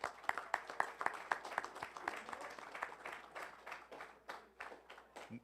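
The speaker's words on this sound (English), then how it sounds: "So a round of applause for Bethel." A small crowd claps for Bethel at a football season community dinner, sharp individual claps close by, uneven and thinning out toward the end.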